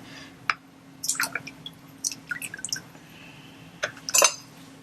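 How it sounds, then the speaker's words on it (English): Lye solution for cold process orchid-scented soap is poured into a container, giving a few irregular drips, splashes and small glassy taps, close and fairly quiet. "Let's pour the lye in."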